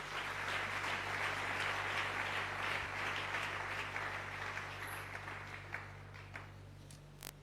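A church congregation applauds in praise of the Lord, a dense wash of clapping over a steady low electrical hum that gradually thins and fades toward the end, leaving a few scattered claps.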